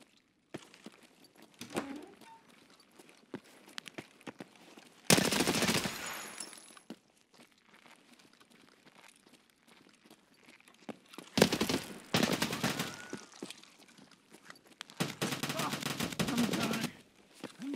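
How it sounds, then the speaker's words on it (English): AK rifle fire rings out in Escape From Tarkov as three separate loud, rapid automatic bursts spaced several seconds apart, with quieter clicks, thuds and some talk in the gaps between them. "Why is there an AK guy shooting his teammate?"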